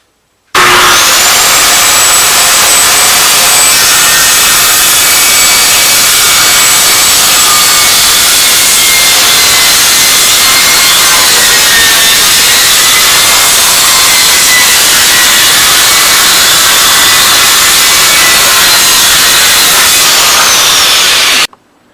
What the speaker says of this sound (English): I'm going to cut that bottom piece